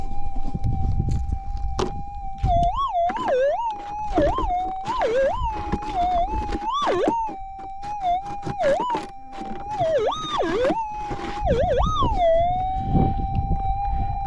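A metal detector's warbling target tone rings continuously while gold prospecting, wavering and dipping in pitch as the coil sweeps, heard up close over faint scraping and ground noise.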